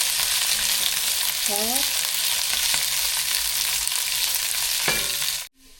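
Green beans fry in a pan with a continuous close sizzle, a short utensil clatter, and then an abrupt cut to near quiet at the end, with a brief spoken word.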